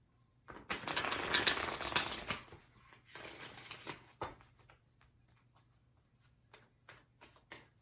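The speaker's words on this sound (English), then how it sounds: "I'm going to pull you a Spirit Animal Oracle card to end the reading" A deck of Spirit Animal Oracle cards is shuffled by hand during a tarot reading, giving a close, dense riffling burst for a couple of seconds, a second shorter burst, then scattered soft card taps.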